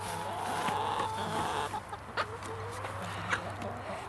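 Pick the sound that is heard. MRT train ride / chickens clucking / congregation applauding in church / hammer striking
chickens clucking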